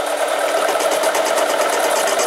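A Harbor Freight 7x10 mini lathe cuts a 304 stainless steel bolt under power feed, giving a steady, continuous mechanical whir and buzz with a faint rapid pulsing, close by and with no speech.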